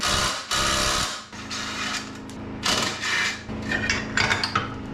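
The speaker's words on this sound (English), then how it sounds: "Now I'm gonna unbolt the U-joint. It's just a couple 13mm." Work on the U-joint bolts of a VW MK4 TDI with a 13mm wrench, heard as a run of close metallic clicking, scraping and rattling bursts with brief pauses.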